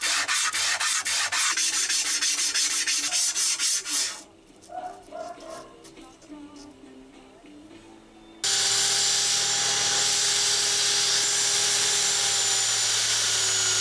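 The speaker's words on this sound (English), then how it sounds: "I sanded them with sandpapers from 40 to 400 grit." Metal is sanded by hand with sandpaper of 40 to 400 grit, heard as a fast, rhythmic scratching strokes, then quieter scattered rubbing, then a loud continuous hissing grind for the last few seconds.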